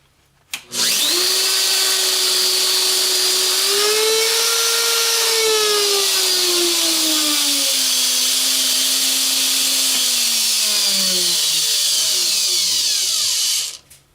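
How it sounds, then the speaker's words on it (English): A DeWalt DWP611 compact router switches on abruptly and runs with a loud, steady high-pitched whine for about thirteen seconds. Its pitch sags slightly midway before the motor cuts off. "this is the Dewalt DWP611 compact router"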